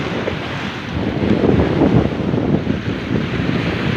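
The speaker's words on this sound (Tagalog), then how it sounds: "Malaki alon dito." Heavy surf rolls and crashes in a continuous roar, loud and close, with wind buffeting the microphone throughout.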